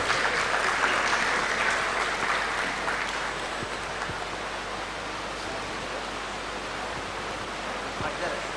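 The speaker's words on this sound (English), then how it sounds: "Can we have a big round of applause for them?" An alumni awards event draws sustained broad applause from an audience, strongest at the start and then settling to a steady, dense clapping wash for the rest of the clip.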